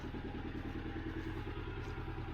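A Kawasaki Mule Pro FX utility vehicle idles in neutral, its engine putting out a steady, even low throb with a fast rhythmic pulse, loud and close, with no voices over it.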